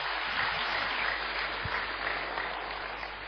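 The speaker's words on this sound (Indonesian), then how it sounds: "Sekali lagi kita beri tepuk tangan untuk yang mulia Bante Utamo Mahathera." Audience applause at a Dhamma talk, a brief, even burst of many hands clapping together at moderate volume, continuing for a few seconds without speech.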